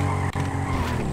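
Tires of a Honda Beat screeching under hard braking during a road speed test, a loud, close, continuous squeal over engine noise.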